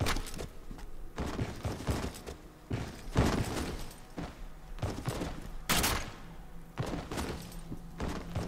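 Repeated sharp gunshots from a weapon in the video game F.E.A.R. 2 come in an irregular series, loud and close, with some heavier thuds between the shots.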